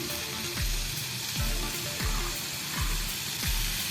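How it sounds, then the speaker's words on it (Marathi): Diced tomato pieces go into a pan of frying capsicum and potato, giving a soft steady sizzle with a few repeated low thumps and scrapes, close and without talking. "आता ह्याच्यामध्ये आपण एक मोठ्या आकाराचा टमॅटो आहे त्याचे पण क्यूबसारखे आपण पीसेस केलेले आहे ते घालूया"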